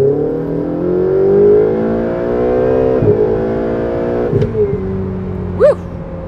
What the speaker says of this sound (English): That's the turbos. Yeah, I can hear it.